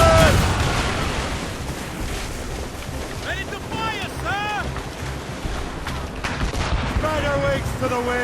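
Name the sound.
ship cannons firing broadside, Assassin's Creed Rogue video game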